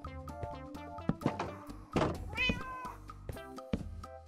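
A cat meows in a Minecraft survival world, game version 1.15.2, with a few short mews mixed among blocky in-game thunks and clicks, moderately loud and close, with no talking.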